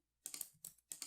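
Quick, quiet clusters of computer keyboard keystrokes, three short bursts of clicky taps entering shortcuts in a spreadsheet, close and crisp against near silence.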